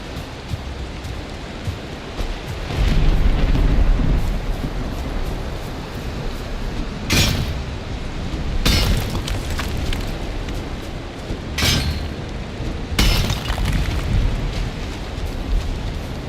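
Thunderstorm in the Valheim video game, with steady heavy rain hiss and wind throughout, punctuated by several loud, sharp thunder cracks and rumbles at intervals, fairly close and dominant, with no talking.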